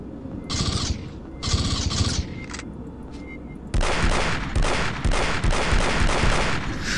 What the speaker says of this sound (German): Schieß einfach alles ab, was mir über die Flinte läuft